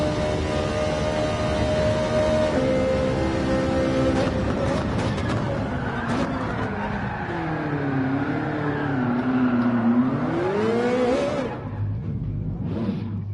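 A race car engine in the video game Gran Turismo 7, heard from the cockpit view, revs and drones loudly, pitch climbing and dipping in waves before a final high rev that cuts off.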